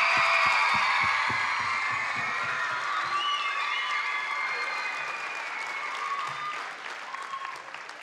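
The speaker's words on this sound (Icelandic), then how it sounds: "Við skulum gefa honum gott klapp" An audience gives a warm round of applause welcoming guest Jón Jónsson onstage at the Tónkvíslin 2017 event. The clapping is dense and sustained throughout, with scattered whoops over it, and eases off slightly toward the end.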